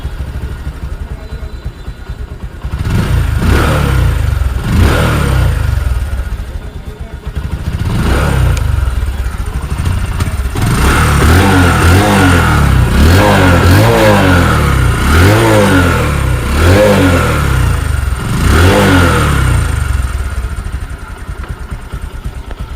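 A Bajaj Discover 125cc motorcycle engine, kick-started and running loudly, with repeated throttle revs rising and falling in a steady rhythm close by; no one speaks.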